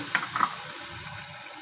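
Water splashes into a pan of boiled, thawing chickpeas for chana masala, a short pouring burst near the start and then a soft, steady hiss and bubble, with no voices.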